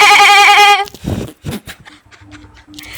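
A person's voice imitates a goat, giving one loud, sustained, wavering bleat up close. Quieter talking and a few thumps follow.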